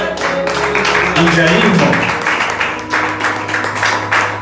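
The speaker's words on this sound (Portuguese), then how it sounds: "Pode aplaudir." Church congregation applauding during a sermon, a dense wash of clapping running throughout while someone speaks loudly over it.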